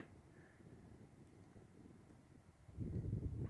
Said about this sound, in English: it's going to be a little windy